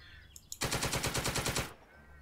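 Turret machine gun on a tank in a World War II tank game fires one sustained, loud automatic burst of about a second, rapid rhythmic shots, preceded by a couple of faint clicks and followed by quiet.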